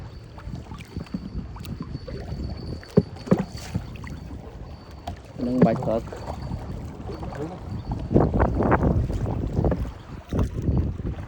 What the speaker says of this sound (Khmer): ដោយសារយើងអុំទូកយ៉ាងឆ្ងាយ